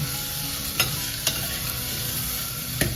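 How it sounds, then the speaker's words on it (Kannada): Potatoes and vegetables frying for veg ghee biryani, a loud continuous sizzle close by with a few sharp spoon clinks as they are stirred, no talking. "ಈಗ ಇದನ್ನು ಚೆನ್ನಾಗಿ ಫ್ರೈ ಮಾಡ್ಕೊಳ್ಳೋಣ."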